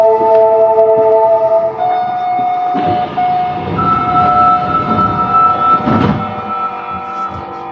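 A train pulls into a busy Osaka station platform, with loud sustained tonal whines and chime-like tones over rumbling, rising rail noise as it arrives, close and prominent.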